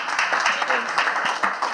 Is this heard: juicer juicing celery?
no